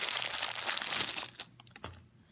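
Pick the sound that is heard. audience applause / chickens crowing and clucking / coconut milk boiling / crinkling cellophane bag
crinkling cellophane bag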